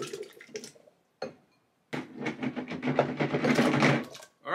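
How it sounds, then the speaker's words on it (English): Roma tomatoes tumble into a blender jar with a burst of close, rapid thuds and rattling knocks, after a few softer clunks and brief silences. "Next, dump in the tomatoes."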